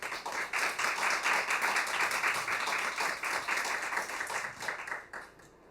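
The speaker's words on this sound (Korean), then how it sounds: "여러분들의 뜨거운 박수로 모시도록 하겠습니다" A lecture audience applauds warmly, a dense continuous clatter of many hands clapping that fades out near the end.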